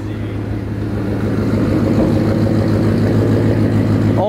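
A Ford Mustang idles loudly and close by, with a deep, steady engine drone that holds constant from start to finish and has no talking over it.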